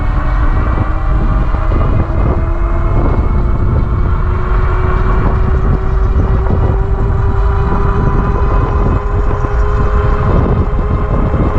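An EUY 750W folding fat-tire electric bike riding at speed, with a steady loud roar of wind and tire rumble and a rising motor whine, close and continuous with no talk.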